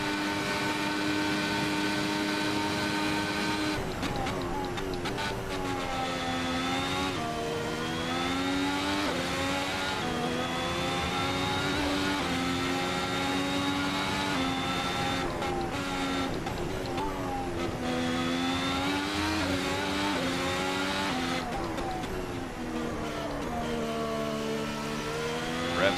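A 2017 works Ferrari race car's engine in the video game Assetto Corsa, heard around Imola's Rocca Minerale and Variante Alta. It screams loudly and continuously for the whole stretch, its pitch climbing and dropping through repeated upshifts and downshifts.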